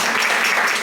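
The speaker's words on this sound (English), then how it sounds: "Yeah, clap for yourselves." Audience applause at a drag-queen Dungeons and Dragons show in a bar, a steady wash of clapping that fills the short moment without a break.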